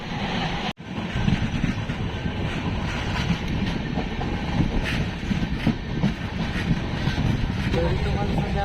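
Steady rumble and rattle of a moving passenger train heard from inside the carriage on an overnight Pune to Tirupati journey, a continuous loud low roar with wind noise after a brief dropout near the start.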